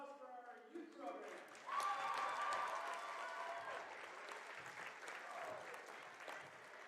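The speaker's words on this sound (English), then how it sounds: "One more round of applause for our youth program." A crowd applauds at a girls' varsity basketball game, with dense sustained clapping in a large gym. A voice speaks at the start, and chatter continues beneath the applause.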